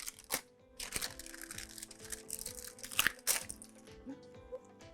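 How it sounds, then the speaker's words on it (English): Parchment paper is peeled and folded away from a sheet of sugar glass for a cake, giving a series of crinkling paper rustles and sharp crackling snaps that come up close and irregularly. "we'll take our clip off and then fold away the parchment paper behind it"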